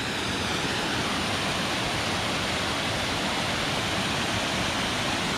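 A waterfall beside a hill path in Glen Etive roars in a dense, unbroken rush, loud and close, with no other sounds over it.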